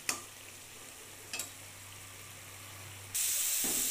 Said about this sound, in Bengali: এবার জলটাকে একটু জাস্ট শুকিয়ে নেবো, শুকিয়ে একটু ভাজা করে নেব।